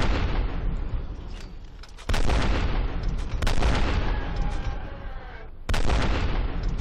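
Heavy gunfire and booming blasts from the video game F.E.A.R. pound in dense bursts, loud and continuous with brief lulls.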